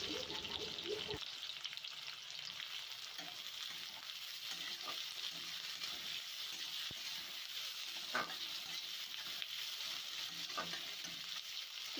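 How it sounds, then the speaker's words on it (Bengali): Four thinly sliced onions frying in hot oil in a pan, giving a steady close sizzle that runs without pause, with occasional faint stirring clicks and no talk. "পেঁয়াজটা একটু ভাজা ভাজা করে নেব"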